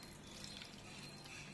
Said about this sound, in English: Let me take some water